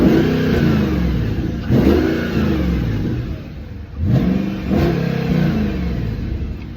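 A decatted Audi B7 RS4 with its exhaust flaps closed revs twice, each time surging from a deep, muffled idle and then falling back, close and alone.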